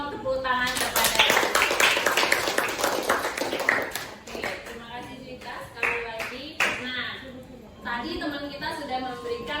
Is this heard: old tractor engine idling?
no